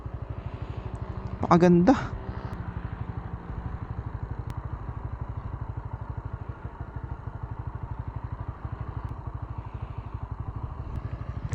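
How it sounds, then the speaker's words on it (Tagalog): A 2026 Honda WinnerX150 underbone motorcycle idles quietly, its engine ticking in an even, steady rhythm close by, with a brief spoken word and a short clatter near the start. "Tingnan nyo naman kung gaano katahimik yung makina na yan"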